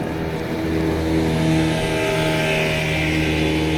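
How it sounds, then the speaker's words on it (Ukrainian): A motorboat engine drones steadily nearby on the Horyn River, a loud continuous hum that swells slightly as the boat passes, with no one talking. "Моторка знов."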